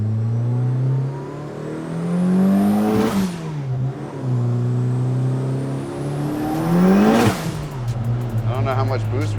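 A tuned Mitsubishi Evo X with about 390 wheel horsepower driving on the road, its engine droning steadily and climbing through two strong rising revs, each ending in a sharp drop as it shifts.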